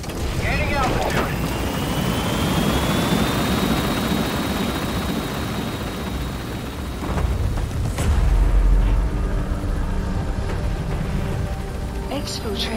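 A helicopter gains altitude after lifting off from a landing zone in Metal Gear Solid V: The Phantom Pain, its steady rotor and engine roar sustained and close throughout, with a louder low rumble near the end and radio voices talking over it.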